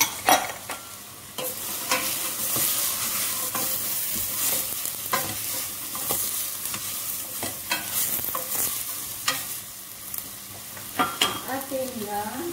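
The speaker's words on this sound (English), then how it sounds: "ilagay natin ang celery at saka carrots" Celery and carrots sautéing in a pan, with a soft continuous sizzle and repeated scraping, clinking strokes of a utensil stirring the vegetables close by.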